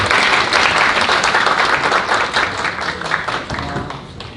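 Audience applause fills a Korean National Assembly policy forum on the post-COVID Green New Deal, welcoming a panelist; dense, steady clapping from a crowd throughout, fading slightly toward the end.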